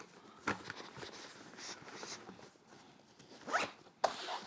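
A Pakt Anywhere Sling 5L bag stuffed with gear is zipped closed in several quick, close zipping strokes with pauses between them, the final pulls sharper and louder.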